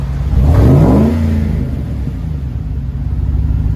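A 2007 Chevy Suburban 5.3L V8 with a Magnaflow exhaust revs up with a deep, rumbling rise and then settles back to a steady idle burble, loud and close, with no speech.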